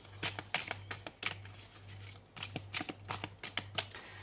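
Tarot cards being shuffled in quick repeated riffles and slaps, close and crisp, in irregular bursts over a steady low hum.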